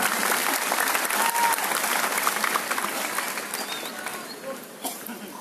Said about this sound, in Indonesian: Beri tepuk tangan untuk wakil rakyat kita.